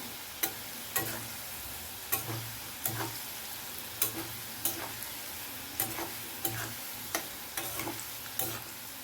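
Bitter gourd (karela) frying crisp in a pan over a high flame, a low background sizzle punctuated by regular sharp clicks and scrapes of a spatula every second or so, fairly quiet and close.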